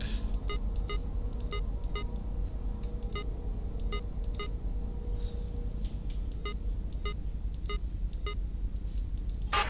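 Telephone dialing beeps in the horror video game Five Nights at Candy's 2, a regular series of short, sharp electronic tones over a steady low ventilation hum, with no voices.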